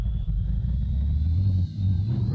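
A Porsche road car fitted with a 1980s turbocharged F1 engine accelerating, a deep, steady low engine rumble with a rising tone, close and continuous, dipping briefly near the end before picking up again.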